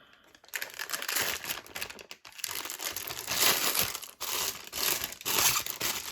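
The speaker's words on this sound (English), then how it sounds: "I'm going to cut the tip of my piping bag off" Scissors snip the tip off a plastic piping bag, giving a steady run of crinkling, crackling plastic handling noise close to the microphone with a few brief pauses.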